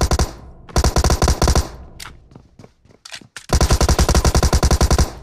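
Automatic gunfire in a video game gunfight, with long loud bursts of rapid rhythmic shots, a short gap of scattered single shots and then another sustained burst close to the listener.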